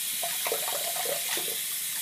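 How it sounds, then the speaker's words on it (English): Lukewarm tap water running for hair washing in a sink, a steady broad rush with faint splashes and trickles, close and continuous, no voices. "I use lukewarm water. This water's starting to get hot."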